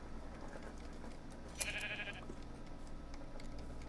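A sheep in a Minecraft modpack game gives a single short bleat midway, clear against a low steady background hum.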